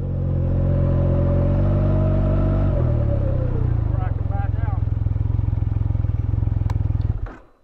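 2023 Can-Am Ryker 900 three-wheeled motorcycle engine running loud and close, a steady throbbing idle that shifts pitch partway through before cutting off abruptly, with a person talking over it.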